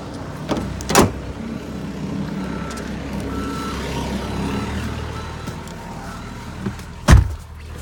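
A 2005 Chrysler Town & Country minivan runs at low speed with a soft engine hum, a steady reversing beep, and a couple of sharp door or mechanical thumps.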